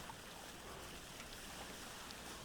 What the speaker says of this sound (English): Waterfalls everywhere.